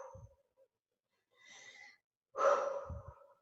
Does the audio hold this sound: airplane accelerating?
no